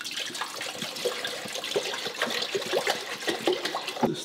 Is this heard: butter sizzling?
no